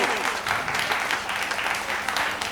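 Audience applauding in a hall at a Hindi poetry gathering honouring a young SDM, a steady broadband wash of clapping throughout, fairly close and continuous.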